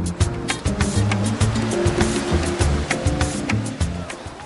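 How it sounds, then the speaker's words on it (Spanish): Surf at Copacabana beach in Rio de Janeiro, a loud, continuous rushing wash of waves with low rumbling swells and some low traffic-like hum underneath. "Esta es la playa de Copacabana en Río de Janeiro."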